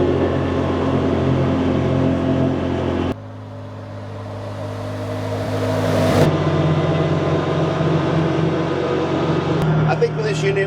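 A Polaris NorthStar BigHorn 1000 APEX UTV drives at about 60 mph, its engine and wind noise a steady loud drone that shifts tone partway through, with a person talking over it.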